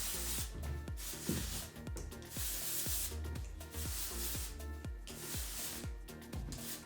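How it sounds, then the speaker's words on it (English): A hairdresser sprays dry texture spray through lifted hair in a series of short hissing bursts, repeating in an uneven rhythm over a steady background. "we're going to spray it throughout the hair"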